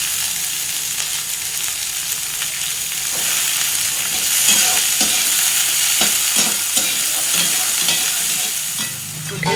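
Beans and carrots stir-frying in a pan with onions, a continuous hiss of sizzling oil with irregular scraping and clacking from a utensil stirring the vegetables, close and fairly loud.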